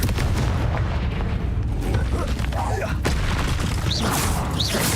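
Fire-blast spell explosions in the Hogwarts Legacy video game: deep booming blasts and crackling bursts layered over a continuous rumbling game soundscape, loud and steady.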